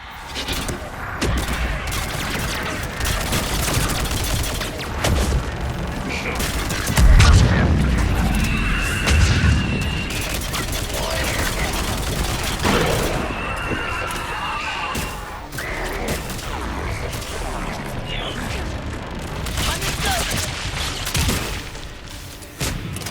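Missiles and gunfire from a gunship during combat in the video game Mass Effect 3, a dense, loud stretch of booms and rapid shots with a heavy deep impact near the middle, mixed with music and game effects.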